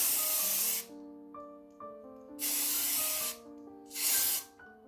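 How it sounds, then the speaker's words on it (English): Three long bursts of hairspray onto hair while styling a 1920s look, each hissing blast lasting about a second and separated by short pauses, close and fairly loud, with a faint background tone between sprays. "The smell of hairspray is... why?"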